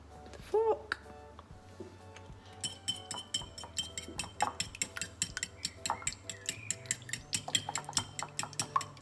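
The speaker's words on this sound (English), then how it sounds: "give them a little whisk with the fork" Eggs being whisked with a fork in a bowl for lemon drizzle slices, a run of quick light clinking taps that starts after a few seconds and keeps a steady pace, with faint background tones.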